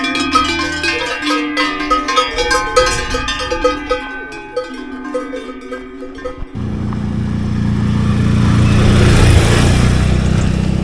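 Cows wearing cowbells on the Gemmi Pass hiking trail produce irregular overlapping metallic clanks from several bells nearby for about six seconds, before a rumbling engine takes over.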